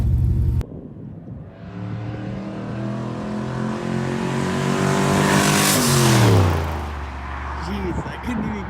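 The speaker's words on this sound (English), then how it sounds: "let's get this flyby" A 600 hp turbocharged 6.0 LS-powered 1964 Chevrolet C10 Suburban roars past, its engine note climbing as it approaches, peaking loudly, then dropping in pitch as it pulls away, with faint voices nearby.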